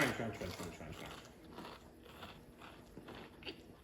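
Someone chewing crunchy food close up: a steady run of crisp bites and crunches over a faint background hum.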